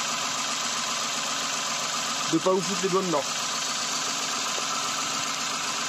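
Toyota Aygo 1KR-FE petrol engine idling steadily with the bonnet open, a constant close hum running throughout while someone briefly speaks over it.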